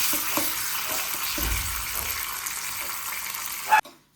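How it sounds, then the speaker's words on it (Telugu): Urad dal fries in hot tempering oil for a tamarind-based pachi pulusu, giving a soft, steady sizzle with faint stirring clinks, ending abruptly. "దోరగా మినపప్పు దోరగా వచ్చేంత వరకు వేసుకోవాలి."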